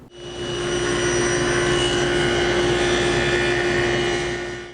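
A saw makes one pass along the fence to cut joinery for a sunburst veneer table. The blade gives a loud, steady whine with a constant tone for the whole pass, then spins down slightly at the end, with no voices.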